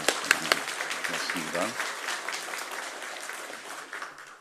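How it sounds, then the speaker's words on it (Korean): A church congregation applauds the choir during a Christmas Eve Sunday worship service. Steady, dense clapping fills the room while someone speaks over it, and the applause slowly fades. "우리 찬양대 수고 많았다고 우리 감사와 격려의 박수 한 번 더 부탁을 드립니다."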